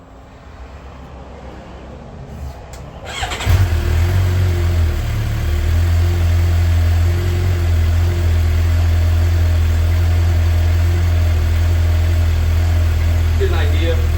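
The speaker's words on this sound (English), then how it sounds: "Let me do a little startup first. Do a little startup. Hear the sound." A 2012 Suzuki GSX-R750 motorcycle with an M4 slip-on exhaust cranks and fires up after a few quiet seconds, then settles into a steady, loud, deep idle close by.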